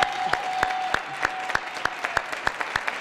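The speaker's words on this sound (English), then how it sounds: "Can we give her another big, big round of applause?" Scattered, steady clapping from a small group, crisp individual claps repeating in a loose rhythm.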